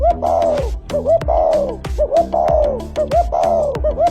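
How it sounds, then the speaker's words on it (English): A spotted dove gives a repeated, mellow cooing phrase, about four close, clear rounds in steady rhythm, over soft background music. "This is a spotted dove."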